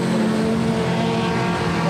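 National four-cylinder race cars at Cairns Speedway roar past in a heat, a loud, steady engine drone with no break.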